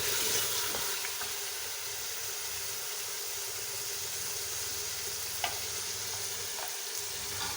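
Mutton for aloo gosht, browned until its liquid has dried, sizzles steadily in a pan as spices are stirred in, with faint scraping clicks over a continuous frying hiss and no talking.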